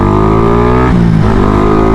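Four-wheeled vehicles roll along Marcos Highway, a loud, steady engine drone with a tonal hum that dips and shifts midway as a vehicle passes close, heard from the road without talk.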